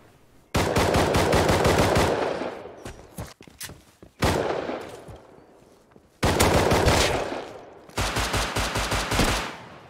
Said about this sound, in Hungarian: Nagyon lövöldöznek alatta.